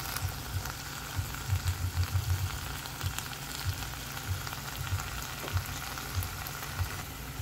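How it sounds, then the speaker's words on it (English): Shrimp frying in a pan for a Guyanese-style chicken feet and shrimp curry, giving a steady close sizzle with scattered pops and crackles throughout. "I'm frying this up for another 2 more minutes"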